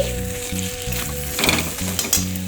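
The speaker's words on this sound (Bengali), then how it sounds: "এক teaspoon Kashmiri red chilli powder দিচ্ছি কালার আসার জন্য, নেড়ে নিচ্ছি" Kashmiri red chili powder gets stirred into a frying tomato masala, giving a continuous close sizzle with soft scraping and stirring sounds breaking through briefly, and no voices.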